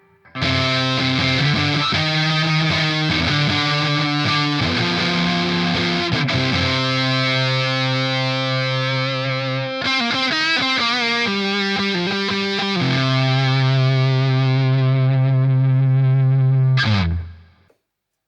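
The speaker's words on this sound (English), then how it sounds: "I wonder how it sounds with the neck pickup." A Squier electric guitar on its neck pickup, run through a Rattler distortion pedal, plays loud, gritty sustained chords and riffs with shifting notes, ending on a held chord that cuts off abruptly.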